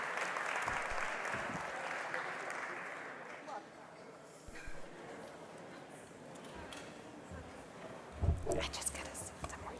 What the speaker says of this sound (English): Please welcome her again with a lot of applause, Jane McLaughlin.